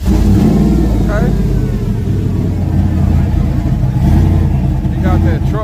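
A truck engine revs hard at close range, a loud, sustained mid-low drone swelling and easing through a racing game, with a voice talking over it.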